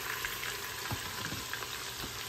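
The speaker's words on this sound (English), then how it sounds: "So there's your 2 cups diced onion. Add that to the bacon fat." Diced onion and celery sizzle and fry in hot bacon fat in a pot, a steady close crackle with a few soft stirring knocks, no voices.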